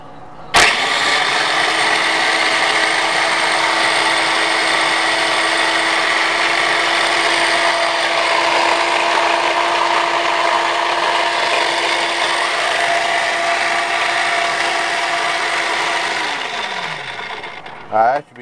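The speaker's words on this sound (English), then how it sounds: "this is my food processor. I got this, this is a Black & Decker" A Black & Decker food processor whirs steadily with a loud, constant motor hum and blade buzz, starting abruptly and running unbroken for about sixteen seconds before spinning down, with a brief clatter at the end.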